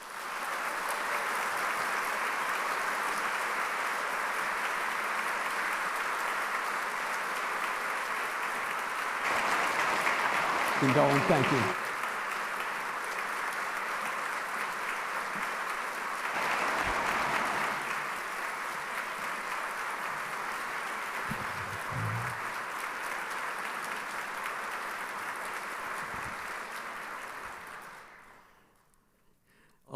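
Sustained applause from a large audience at Princeton Alumni Day welcoming a four-star general, steady and loud for nearly half a minute before fading out, with brief spoken thanks over it.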